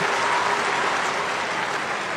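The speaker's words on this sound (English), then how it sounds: "In the 6th minute, Down fans finally get something to cheer about." Gaelic football crowd of Down fans cheering and applauding a goal, a dense, steady roar of clapping and shouting that fills the whole moment at stadium distance.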